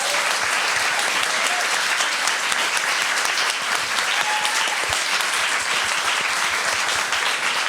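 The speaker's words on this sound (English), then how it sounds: "Please give them applause." Audience at a feminist panel event applauds speakers in a loud, continuous wash of clapping with individual sharp claps standing out, sustained throughout.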